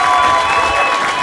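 Crowd applause and cheering from an audience welcoming Governor J.B. Pritzker at the 605 Innovation District launch event in Aurora, a brief, loud, dense wash of clapping and voices.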